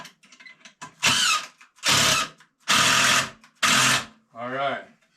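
A power drill drives screws into an 8-foot wooden board while building storage shelves, with four loud sustained whirring bursts of about half a second each, then a shorter winding-down burst, and faint voice at the start.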